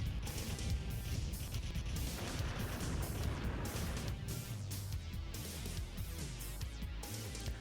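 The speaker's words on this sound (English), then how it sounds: "And he has a nice explosion." A defeated enemy robot, Zero, explodes in Sonic Adventure during Amy's story: a loud, dense run of booming, crashing blasts that fills several seconds before cutting off.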